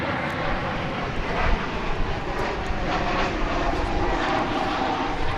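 An American Airlines airliner in the silver Heritage livery passes at DFW Airport, its jet engine roar a steady dense rush at moderate distance with no talking over it.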